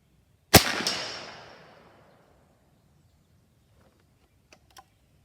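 A single sharp, loud shot from an AirForce Texan .308 air rifle cracks and rings out with a fading tail, followed by two faint distant ticks.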